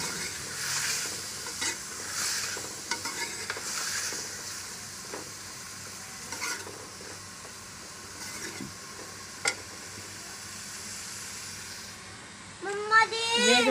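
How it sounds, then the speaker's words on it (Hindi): Mixed vegetables (potato, peas, carrot, turnip) stirred in a frying pan, a soft continuous sizzle broken by repeated scraping strokes of a spoon, with a brief voice near the end. "अब इसे मैं अच्छी तरह से मिक्स करूँगी।"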